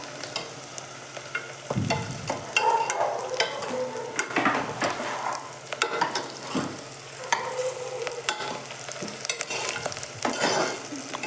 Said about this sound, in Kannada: ಸ್ವಲ್ಪ ಒಣಮೆಣಸಿನ್ಕಾಯಿ ಹಾಕ್ತಾ ಇದ್ದೀನಿ